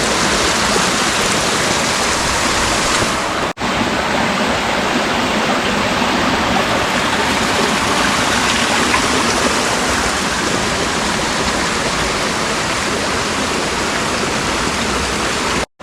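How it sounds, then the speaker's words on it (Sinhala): Clear water rushes along the Bathiya stream on a mountain trail toward Sri Pada in Sri Lanka, a loud, constant close-up babble and splash with no voices, broken only by a momentary dropout near the start. "බලන්නකෝ සුන්දර මේ බොහොම පිරිසිදු වතුර තියෙන මේ බාතිය දොල."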